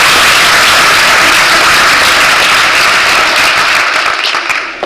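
Loud, dense audience applause at a community gathering fills the room continuously, then thins and tapers off near the end, with no talk over it.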